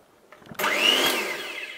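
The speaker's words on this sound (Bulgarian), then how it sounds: "Значи вземаме миксера." An electric kitchen mixer starts abruptly and runs with a steady whirring whine, near and loud, for the rest of the moment, with a washing machine running in the background.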